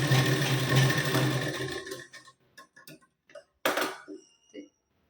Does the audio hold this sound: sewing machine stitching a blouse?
yes